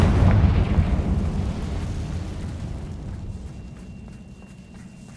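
A Confringo fire spell bursts in Hogwarts Legacy with a loud low blast that rumbles and slowly fades over several seconds, with no talking.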